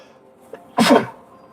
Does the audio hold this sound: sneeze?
yes